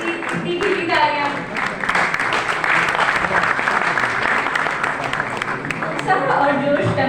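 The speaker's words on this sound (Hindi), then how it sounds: "यंग बच्चे के लिए इतनी खिली तालियां।" Applause fills the hall at a national honours award ceremony, a steady, dense clapping from a large audience that carries on throughout while a voice speaks over it.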